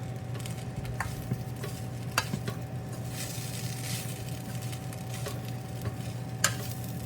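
Peanut masala powder being stirred into cooked rice with a spoon, soft scraping and light clinks against the pan repeating steadily over a constant background hum.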